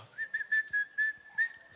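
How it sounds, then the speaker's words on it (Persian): A person whistles a sustained single tone in short repeated bursts, close and clear, with no talking and only faint background noise. "سوت نزن"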